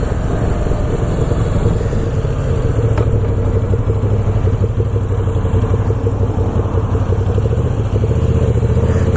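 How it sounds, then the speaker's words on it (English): A Moto Guzzi V7 II motorcycle engine runs steadily and loudly throughout, a continuous low mechanical rumble with a slight clatter, close by and without speech. "We're only going to go about 20 mile, enough to get the engine running"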